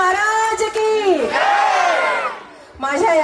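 A crowd at a Shiv Jayanti celebration bellows a rousing slogan for Chhatrapati Shivaji Maharaj, loud massed voices rising together, dipping briefly, then surging back in another shout.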